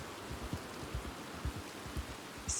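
Steady rain hissing through a thunderstorm in the game Red Dead Online, a soft continuous wash with faint low thumps beneath it and no speech.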